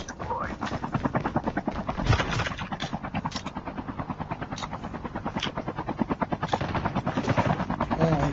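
A helicopter in the mobile shooter game Call of Duty Mobile keeps up a fast, rhythmic rotor chop that stays loud and close throughout.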